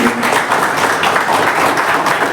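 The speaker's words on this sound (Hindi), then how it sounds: "तो आई थिंक उसके लिए जोरदार तालियां बजनी चाहिए." An audience claps loudly and densely at a Ganesh Puja celebration honouring a giant laddoo, a continuous close wash of many hands with no pause.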